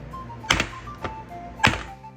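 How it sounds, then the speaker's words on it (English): Two dull metallic thuds, a pie tin of chocolate pie filling knocked down onto a counter, with a lighter tap between them and soft music underneath. "I like to give it a drop on the counter to knock out any bubbles."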